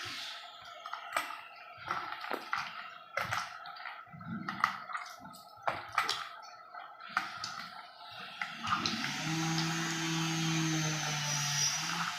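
Water pours steadily into a rasam of dissolved tamarind and squeezed tomatoes for the final few seconds, preceded by soft, scattered squishing and clicking kitchen sounds at close range.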